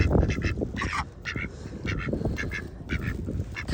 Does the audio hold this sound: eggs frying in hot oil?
no